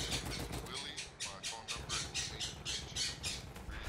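Birds squawking in Battlefield 1: a run of loud, harsh, regular calls repeating in quick succession over a low background rumble.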